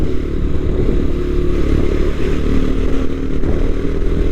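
A Yamaha R3 motorcycle engine drones continuously at close range while riding on a hill road between Mettupalayam, Gudalur and Masinagudi, with steady wind and road noise and no talk.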